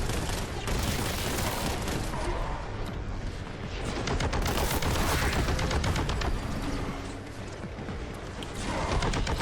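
Heavy gunfire from enemies in Warhammer 40K: Boltgun, a dense continuous barrage of loud shots and explosions with mechanical clatter that swells and eases across the whole stretch.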